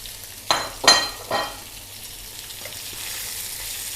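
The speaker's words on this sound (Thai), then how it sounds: "เราก็ใส่กุ้งลงไปจ้ะ ใส่กุ้งลงไปพร้อมหน่อไม้เลยจ้ะ" Shrimp and fresh bamboo shoots are stir-fried in a pan, with three quick scraping stirs and clinks followed by a soft, steady sizzle that settles in.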